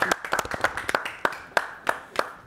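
A small audience at a French discussion event claps in sparse, uneven bursts that thin out to slower individual claps, fairly quiet and with no talking.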